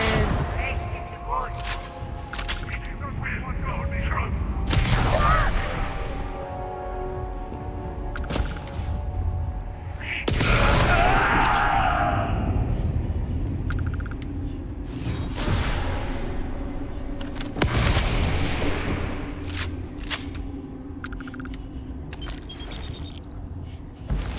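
Video game combat with a grenade blast and rapid gunfire, sharp repeated shots and booms scattered throughout under a voice, with one heavier explosion midway.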